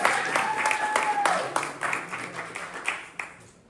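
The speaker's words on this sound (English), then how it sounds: "Let's give it a big hand of applause for Alex." A crowd applauds with scattered clapping that fades out over a few seconds, while a brief tone sounds near the start.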